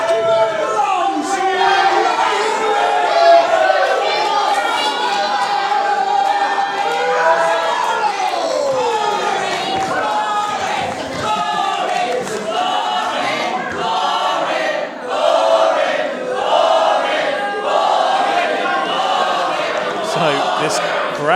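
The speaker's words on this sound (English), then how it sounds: "This crowd telling Prospero what they think of him as he lays his tone next to the title." A professional wrestling crowd at a live show jeers a wrestler named Prospero, a loud, sustained mass of booing and shouting voices filling the arena throughout with no break.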